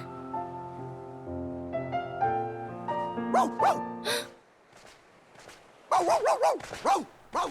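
Several short yips and barks from a dog in Kingdom Hearts 2, heard near the end after a passage of game music and soft chimes.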